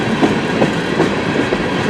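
Freight cars of a westbound CN mixed freight train pass nearby, a constant rumbling roar punctuated by regular wheel clacks over rail joints, no speech.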